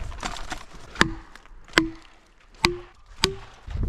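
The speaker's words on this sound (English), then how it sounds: "You can tell by the sound of the wedge that it's sitting back." A felling wedge is struck four times as it is driven into a tree cut, each blow a sharp hollow knock with a short ringing tone, spaced under a second apart and heard alone.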